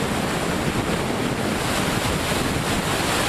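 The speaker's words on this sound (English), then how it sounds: "This, like I say, large stream perhaps, with just a trickle going over the top." Floodwater from a swollen stream spilling in a shallow trickle over the top of a barrier, heard as a steady, dense rushing wash with wind buffeting the microphone throughout and no voices.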